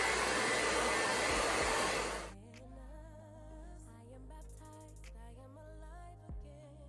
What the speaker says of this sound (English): we're going to use our Silverbird 2000 watt blow dryer